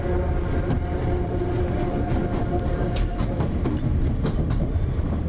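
A train runs on its rails during a weekend trip in London, a steady, loud rumble with rhythmic clicking wheel noise and a few brief squeals, heard alone without talk.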